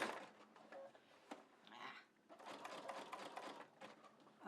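Quiet sewing machine back tacking on a rope coil Easter basket, stitching in short, uneven bursts that stop and restart as the fabric shifts direction.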